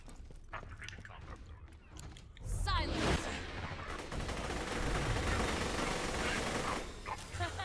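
The Lead Storm gun firing in the video game Borderlands 2, played as Maya against a super badass loader, in a loud, sustained rapid burst of gunfire with impacts, while someone talks over it.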